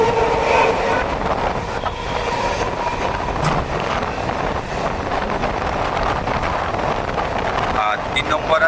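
A Naihati-bound local train rumbles into Dum Dum station with a steady loud roar of wheels and carriages, buffeted by wind noise on the microphone and a faint squeal near the end.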